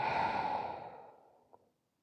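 A long, deep exhale during a relaxing yoga breathing exercise, a soft breathy rush that starts full and close and slowly fades to silence, ending with a faint small click.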